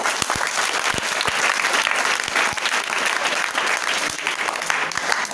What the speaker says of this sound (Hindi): तालियां बजा दो एक।